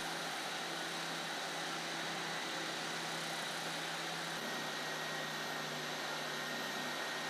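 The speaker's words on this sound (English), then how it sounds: "I'm going to go over to my drum sander and clean it all up" A drum sander smooths the body of a custom guitar, giving off a steady, quiet, broadband whir with an unbroken motor hum throughout.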